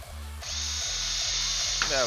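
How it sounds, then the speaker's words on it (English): A power drill spins up and runs steadily with a high motor whine while nuts are being fastened, close and loud. Short bursts of ratcheting come before it, and a voice speaks near the end. "Put it on drill."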